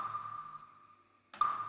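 A pitched snare drum sample with mono reverb rings out as a sustained tonal hit that decays slowly, then a second strike lands with a short noisy burst and ringing tail.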